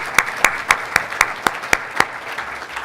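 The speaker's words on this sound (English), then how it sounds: "Let's have another round of applause for Barry, Ken, Roz, Chantal, and Julia" A small audience at a clinical trials panel claps for the speakers, a sparse string of about eight distinct claps at a steady, slow rhythm before fading.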